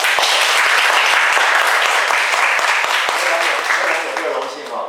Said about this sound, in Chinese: 我们让你的热烈掌声